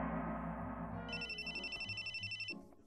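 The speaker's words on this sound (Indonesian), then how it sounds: "Tunggu, ada telepon." A telephone rings with a repeating electronic ringtone, a bright warbling pulse that cycles steadily for about a second and a half over a low background before cutting off, with no speech.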